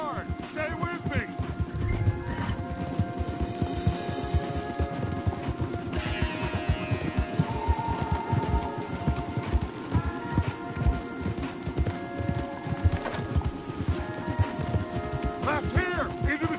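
Horses galloping in Red Dead Redemption 2, a rapid, continuous clatter of hooves with occasional whinnies and spoken dialogue on top, steady and fairly close.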